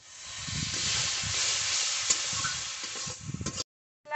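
Masala spices cooking in a pan with a little added water hiss and sizzle steadily with soft bubbling and stirring, then cut off abruptly near the end before a brief return.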